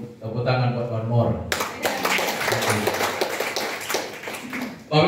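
Audience applause at a motivational seminar breaks out after a speaker's voice, a burst of clapping that carries on for several seconds while talking continues over it.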